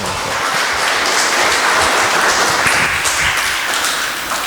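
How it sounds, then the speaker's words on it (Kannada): A church congregation claps in praise to God in a dense, loud, continuous burst of many hands, steady throughout with no voices standing out. "ದೇವರಿಗೆ ಚಪ್ಪಾಳೆ ತಟ್ಟಿ ಸ್ತೋತ್ರ"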